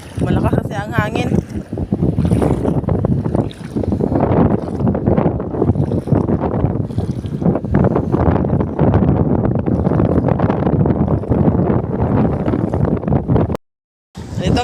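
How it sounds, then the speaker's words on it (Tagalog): Strong wind by the sea shore buffets the microphone in loud, continuous gusty rumbles, with water sounds from the shore beneath and one brief dropout near the end. "Malakas kasi ang hangin."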